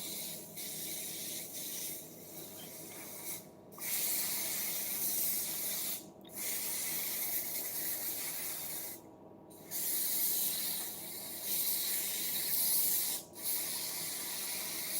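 Non-stick cooking spray is sprayed onto a hot waffle iron for Brussels and Belgian waffles. Several long, steady hissing bursts are separated by brief silent pauses, close and loud.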